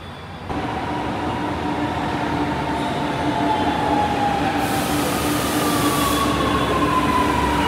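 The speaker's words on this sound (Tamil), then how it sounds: "பார்த்தீங்கன்னா இப்போ நாங்கள் மெட்ரோவில் ஏறிட்டோம்." A metro train carries riders with a loud, steady rumble and rattle of the cars, while thin squealing tones from the wheels drift up and down over it and no one speaks.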